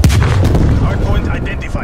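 Frag grenade blast in Call of Duty: Black Ops Cold War multiplayer, a loud booming explosion with a rumbling tail that fades over about two seconds.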